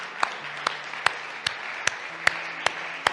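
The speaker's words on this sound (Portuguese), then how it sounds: "dé un aplauso a Jesucristo" A church congregation claps in unison, sharp evenly spaced claps about every half second, with a low sustained tone beneath.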